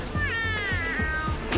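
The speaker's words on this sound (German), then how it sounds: "Das ist ein Katzenroboter." A robotic cat in A Hat in Time lets out a warbling, synthetic meow with wavering pitch over a steady low rhythmic pulse of game background sound, fairly close and clear.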